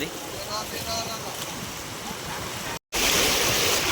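Fast-flowing floodwater rushes in a loud, continuous broadband roar, steady and close, with a voice briefly audible early on and a momentary cut near the end.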